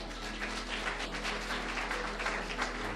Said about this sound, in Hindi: बजा दो जोर से ताली।